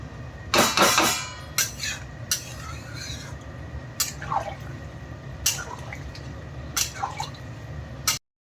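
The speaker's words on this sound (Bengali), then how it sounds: "আমার তরকারি ফুটে গেছে" A pot of curry bubbling as it boils, giving wet pops, squelches and occasional stirring scrapes over a steady low simmer, close and fairly loud, ending abruptly.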